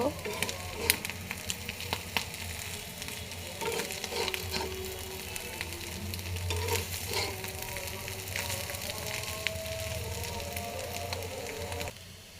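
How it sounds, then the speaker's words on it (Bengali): Fish roe fries in a pan with roasted cumin powder, giving a steady, close sizzle with scraping stir strokes throughout and no talk. "আমার কিন্তু মাছের ডিম ভাজা হয়ে গেছে"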